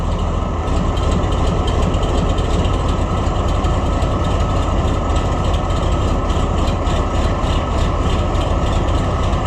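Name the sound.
Oliver 1655 diesel tractor engine running through muffler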